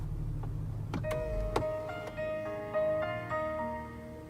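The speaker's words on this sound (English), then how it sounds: "a little welcome sound that welcomes you to the car every time you get in" Welcome chime from the gauge cluster of a 2018 Kia Stinger GT, a short melodic run of bright bell-like tones played alone inside the quiet cabin, with a few sharp notes ringing out over a low hum.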